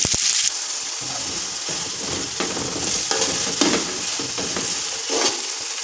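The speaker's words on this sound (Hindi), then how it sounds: "और इसमें मैं प्याज डालूँगी। प्याज थोड़े से ब्राउन कर लूँगी।" Onions sizzle in hot oil in a home kitchen pot while making matar pulao, a steady crackling fry broken by several scraping stirs, close and fairly loud with no talking.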